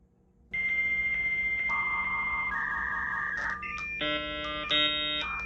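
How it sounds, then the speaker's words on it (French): A dial-up modem connects over a telephone line, sounding a steady tone that steps to a lower pitch, then bursts into layered, warbling handshake chirps and clustered beeps, loud and alone. "On avait un petit modem pour numéroter et pour connecter à Internet par le téléphone."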